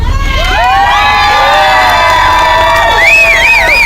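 A crowd cheers and whoops continuously at an outdoor LGBT solidarity demonstration in Kentucky, loud and sustained, with high shouts and rising calls layered over steady crowd noise.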